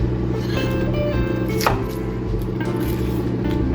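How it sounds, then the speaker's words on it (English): Knife chopping bok choy into pieces on a cutting board, a steady series of close, crisp cuts with kitchen background hum. "Bok choy, cut 4 piece."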